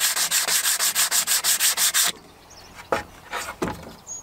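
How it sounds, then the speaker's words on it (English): Hand sanding rust off a narrowboat's metal stern gate, brisk rhythmic rasping strokes for about two seconds, then a few scattered scrapes and rubs close by. "Apart from a bit of rust, which I've got to sand down in a minute."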